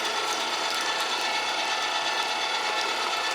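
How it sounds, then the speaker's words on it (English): Electric meat grinder run by a foot pedal, grinding cold meat for poblano and Oaxaca cheese sausage, a loud continuous mechanical whir and rattle with no talking. "Grinder parts are cold, meat is cold, and the foot pedal's attached. Let's grind it up."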